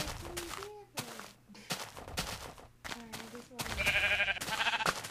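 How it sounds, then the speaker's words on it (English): Sheep bleating in the Minecraft video game, several short wavering bleats in quick succession over busy game sounds and a talking voice, growing louder toward the end. "There's some sheep."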